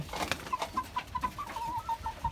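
Native chickens cluck on a rainy rooftop in a quick run of short, repeated notes, close but fairly soft, with no talking.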